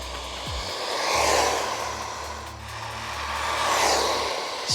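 A 4S RC buggy tearing across wet ground at full throttle gives a loud, high electric whine that swells and fades as it makes two passes close by, with a brief rising rev at the start.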